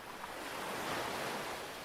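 Ocean surf washes in a steady, continuous roar of broadband noise near a lighthouse at night, with a soft swell in the middle and no voices.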